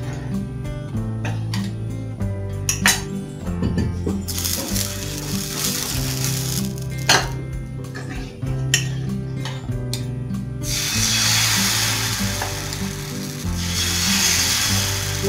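Thick ragi dosa batter sizzles on a hot pan with a steady, close hiss that swells louder toward the end, over a soft, continuous tonal hum.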